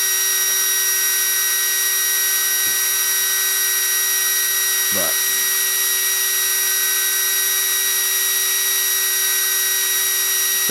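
A small motor heat sink fan on an unlimited desert racer RC car whines at a steady high pitch throughout, constant and fairly loud, with a brief voice and a faint bump partway through.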